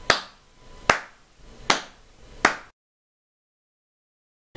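Four loud, sharp hand claps spaced evenly under a second apart, close and dry, followed by silence and then the start of a fifth clap.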